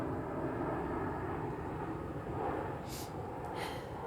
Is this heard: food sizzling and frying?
no